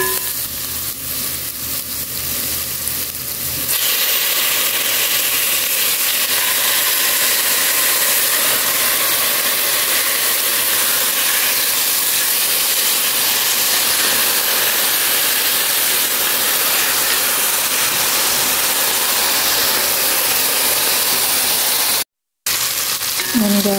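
Chicken pieces added to a pan of cooked onion for chicken kabsa set up a loud, steady, close hiss and sizzle that runs continuously with barely a break.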